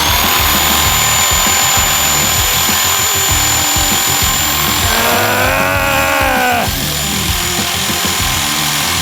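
An electric drill grinds loudly and steadily, cutting through material, its motor rising into a strained whine midway before settling back.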